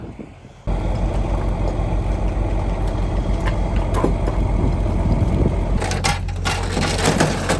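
A Jeep with its four-wheel drive not working fires up on a farm, its engine catching abruptly and then settling into a loud, steady, rumbling run close by, with some clatter and knocking over the top and no talking.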